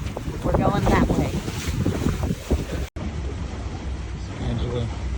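Sailboat out on the ocean under sail, with heavy wind buffeting the microphone and rushing water along the hull, loud and constant, with voices talking partway through.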